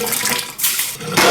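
Water pours steadily into a pot of uncooked rice at home, a loud splashing rush that surges in short bursts with brief dips between, alone without voices.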